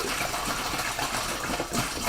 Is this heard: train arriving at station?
no